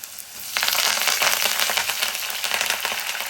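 Curry leaves dropped into hot oil with browned garlic for tomato pickle, bursting into a sudden dense crackling sizzle after a quiet half-second, then holding steady and close.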